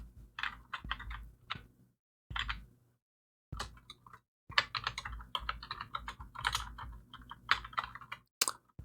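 Bursts of computer keyboard typing, close and fairly loud, with rapid clustered keystrokes broken by a few short pauses.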